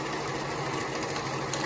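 Sewing machine backstitching the end pieces of a cork pouch, a short, even mechanical hum heard close up and alone.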